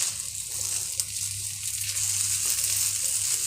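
Chow mein noodles being mixed with chaat masala in a frying pan give off a steady, close sizzle with a soft hiss and faint stirring scrapes throughout, with no voices.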